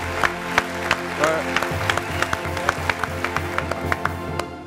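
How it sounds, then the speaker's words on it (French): Scattered hand claps with a few sharper pops over a murmuring crowd, brief and uneven, with a voice speaking underneath. "On va l'applaudir quand même."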